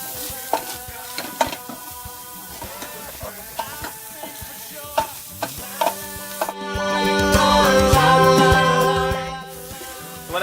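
Onions fry and are stirred in a pot for patola soup, with sharp spoon-on-pot knocks and scrapes at irregular intervals over a quiet sizzle, swelling into a louder steady hiss midway.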